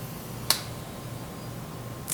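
An Instant Pot float valve drops with one sharp, close click, followed by a second faint click near the end, in an otherwise quiet kitchen.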